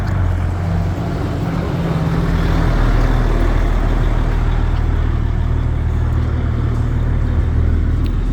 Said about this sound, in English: Let this bus pass.